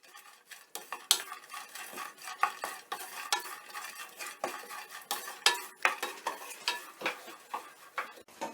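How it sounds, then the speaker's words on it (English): Prawns are stirred in a pan with turmeric and celery salt for curried rice, producing irregular clinks and scrapes of a utensil against the metal, close and fairly quiet, with a faint sizzle beneath and no talking. "give those a bit of a stir"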